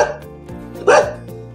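Pet dogs let out a couple of short barks at close range, one louder burst standing out among softer yips, with no talking over them.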